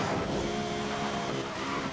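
Lexus LFA with full performance upgrades driving in Need for Speed Most Wanted (2012), a loud, steady, high engine drone holding a constant pitch throughout, without any voices.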